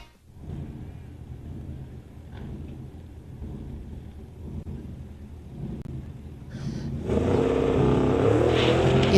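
A 1966 Chevelle with a 505 big block Chevy engine races down a quarter-mile drag strip, a low rumbling engine drone that builds and then jumps to a much louder, roaring surge near the end.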